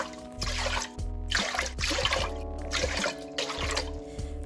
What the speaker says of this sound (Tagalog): Add around 8 cups of water.